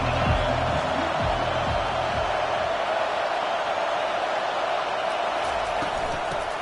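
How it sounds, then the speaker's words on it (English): A hostile stadium crowd at a college football game, Alabama against Wisconsin, roars in a steady, dense wash of noise throughout, with low murmurs of voices underneath. "This crowd trying to make life miserable for this offense."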